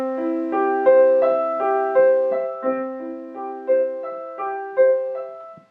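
Piano playing the first two measures of Bach's C Major Prelude, a flowing pattern of broken-chord notes rising and repeating, close, clean and solo without any voices.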